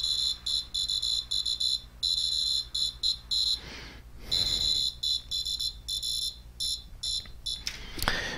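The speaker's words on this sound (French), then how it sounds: "Et donc le son sort ici par le buzzer" High-pitched electronic buzzer playing a video game soundtrack driven by a MIDI stream, continuous beeping melody of rapid staccato tones with brief gaps and a few lower crackling bursts, close and steady.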